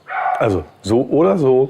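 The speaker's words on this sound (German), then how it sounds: "Entschuldigung für den Hund, den kann ich nicht abschalten in diesem Video" Dog barking and yipping in a home kitchen, several short loud barks in quick bursts mixed with a person talking nearby.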